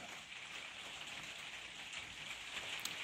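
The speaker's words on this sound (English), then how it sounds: "it's just coming on to rain." Light rain just beginning to fall outdoors, a soft steady patter of drops on surfaces, fairly faint and continuous, with no talking.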